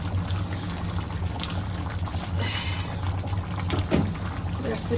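Water pours and trickles into a pot of chicken curry, a steady close splashing flow throughout.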